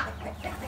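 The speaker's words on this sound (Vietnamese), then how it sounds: "Đấy quá trời gà vịt luôn." Chickens cluck briefly on a farm, a short close burst of soft clucks.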